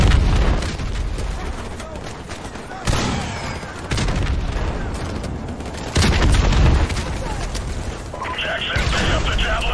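Rocket blasts and explosions in Call of Duty: Modern Warfare Remastered, set in a battle against tanks, with heavy booms and rumbling among battle noise, voices talking over it.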